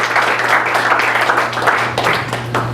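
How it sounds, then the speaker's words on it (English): A room of people applauds the cast of characters at a workplace violence training session, producing steady, fairly loud clapping that holds throughout, with a faint steady hum beneath it. "let's have a round of applause for our cast of characters"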